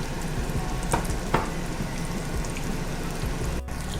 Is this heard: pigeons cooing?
no